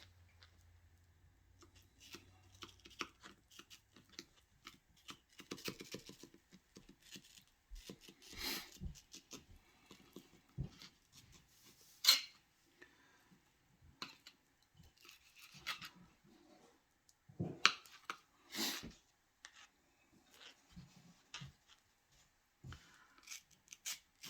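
A knife slices the remaining flesh away from a mango seed, giving scattered faint scraping and cutting strokes in irregular bursts, close and quiet with no talk.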